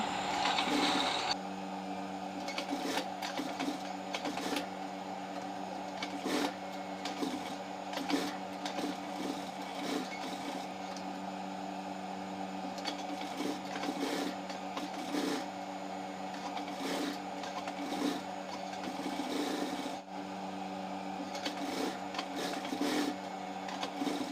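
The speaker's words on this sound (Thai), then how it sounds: "เริ่มจากเย็บ ส่วนขอบของผาก่อนนะคะ" A sewing machine stitches along the edge of a fabric sheet in long, steady mechanical runs, with brief pauses and clicks between bursts, close and fairly loud, with no voices.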